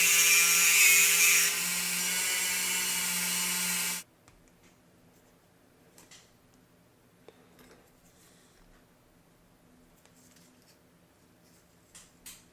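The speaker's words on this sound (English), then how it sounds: "I cut little slots in my axle tubes" A small rotary tool cuts slots into tiny axle tubes for a lowered miniature car, a loud, steady high-pitched whine lasting a few seconds that drops in pitch partway, then stops, leaving near silence with faint handling clicks.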